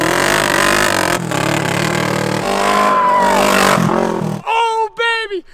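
A three-wheeler fitted with a street bike engine revs hard in sand dunes, running rough and breaking up, then blips in sharp separate revs near the end, with people talking over it.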